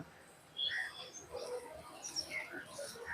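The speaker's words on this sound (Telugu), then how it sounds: "చిన్న చిన్న పక్షులు ఇలాగ తేనె ఎక్కువ తాగుతుంటాయి" Small nectar-drinking birds chirp and tweet in short, scattered high calls against a quiet background.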